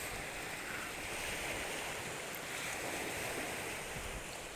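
Ocean waves and surf wash in a broad, steady roar with gentle swells in loudness, somewhat distant and unbroken, with no voices over it.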